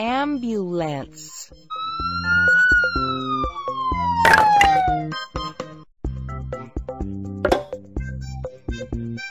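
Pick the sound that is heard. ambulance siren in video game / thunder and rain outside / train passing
ambulance siren in video game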